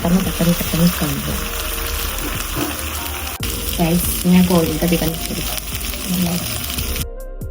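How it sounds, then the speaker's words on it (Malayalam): Eggs fry and are quickly scrambled in a pan on a home stove, with a loud, close sizzle and bursts of stirring and scraping. A voice talks over the cooking. "ജസ്റ്റ് കോഴിമുട്ട എടുക്കുക, ബുൾസൈ അടിക്കണ പോലെ ഉണ്ടാക്കുക. പിന്നെ അത് വേഗം ഇങ്ങോട്ട് ചിക്കി കൊടുക്കുക"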